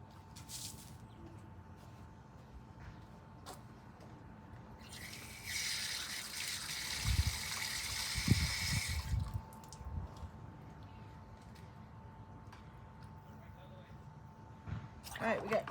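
Tap water gushes into a small bowl during wet felting of a scarf, a steady hiss of about three seconds mid-clip, followed by a few soft clunks and splashes against a quiet room background.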